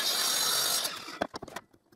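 Miter saw cutting through wooden window strips, a loud steady whine for most of a second, followed by a few short clattering knocks as the blade winds down.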